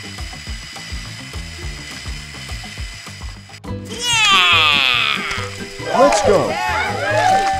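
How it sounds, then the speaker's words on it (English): A LEGO stepper vehicle mechanism runs with rapid, dense plastic ratcheting and gear clicks close up, then excited, high-pitched voices break in over the clatter toward the end. "Wow, the stepper vehicle is moving."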